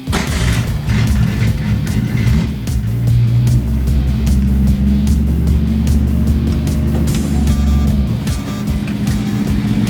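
A 1965 Ford Mustang, freshly revived after sitting for 42 years, drives with a loud, steady low engine drone and a throaty rumble. Gear and speed changes bring it up and down slightly, and rough-sounding brakes add grit.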